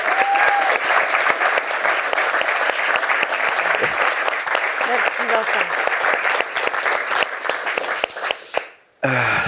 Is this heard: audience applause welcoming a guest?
yes